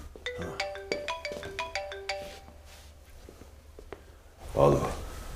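A telephone rings with a repeating melodic ringtone, about eight quick tonal phrases in a steady rhythm, followed by footsteps and a short burst of a voice.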